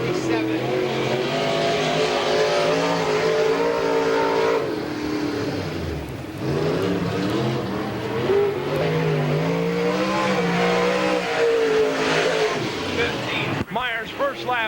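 Race car lapping at Tyler County Speedway in 1995, its engine revving loud and close, rising and falling through the corners in repeated sweeps, while an announcer talks over it.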